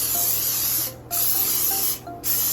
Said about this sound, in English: with some flavored butter nonstick and spray